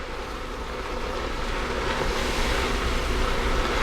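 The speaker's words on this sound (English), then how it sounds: "we're going to add a little bit of water" Water poured into a hot pan of braised red cabbage and stirred, giving a loud, steady hiss and sizzle that rises slightly and carries on alone.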